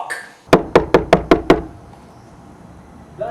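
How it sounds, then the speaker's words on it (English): Six sharp, evenly spaced knocks rap on a door in quick succession, close and loud, followed by quiet and a faint later sound. "I don't hear you, Larry, unless you knock"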